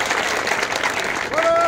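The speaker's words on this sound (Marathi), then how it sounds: "एकदा संजय दादांच्या नावानं जोरदार टाळ्या" A crowd of villagers applauds at a groundbreaking ceremony for a statue of Chhatrapati Shivaji Maharaj, a steady wash of clapping from a large gathering, with a voice speaking over it near the end.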